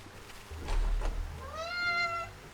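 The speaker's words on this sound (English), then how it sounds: "my cat's just broken into the room" A house cat meows once, a drawn-out rising and falling call after a brief low rumble, close and fairly loud with no talk over it.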